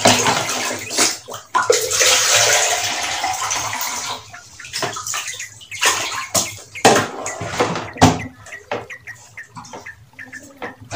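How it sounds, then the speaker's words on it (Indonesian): Water is poured through a funnel to fill a toy, a loud splashing gush at first that breaks into uneven glugs and trickles with short pauses. "Kita isi air, kita menggunakan corong."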